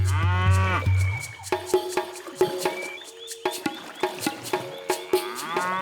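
A cow lets out a long, deep moo near irrigated marshland streams in French Polynesia, followed by a run of sharp clacking knocks and faint bird chirps.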